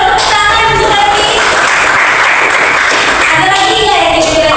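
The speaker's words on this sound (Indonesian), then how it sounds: "Boleh tepuk tangan untuk Lepi" Steady classroom applause for a student in a Pancasila education lesson, dense and continuous clapping from many hands filling the room, fairly loud and close, with no talk over it.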